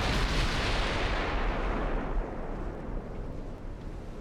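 Light cruisers firing 8-inch guns in the naval game Ultimate Admiral Dreadnoughts, a loud, heavy boom rolling into a long broad rumble that fades slowly.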